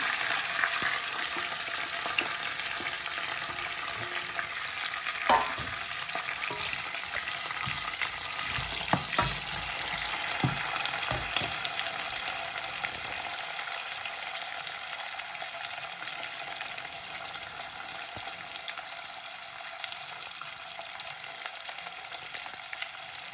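Onions and chillies with curry leaves fry in hot oil for a stingray fish curry, giving a steady close sizzle with occasional stirring clatter, no speech.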